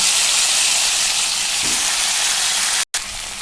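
Hilsa fish masala sautéed in mustard oil with salt sizzles steadily and loudly in the pan, with a soft stirring thump midway and a brief break near the end.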